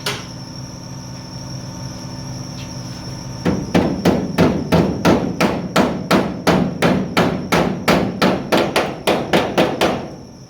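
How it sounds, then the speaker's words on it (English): After a few quiet seconds, a hammer strikes metal about twenty times in a steady, ringing rhythm, loud and close, while working on a Bedford CA camper van. "Where's my hammer?"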